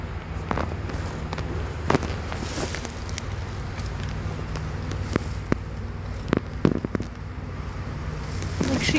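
Honeybees buzz softly around an open hive during setup outdoors, a faint steady drone punctuated by light knocks and handling clicks, with quiet voices nearby.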